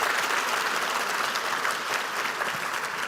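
A big conference audience claps in a sustained, even wash of applause at a lunch plenary, fairly loud and unbroken from start to finish with no speech rising over it.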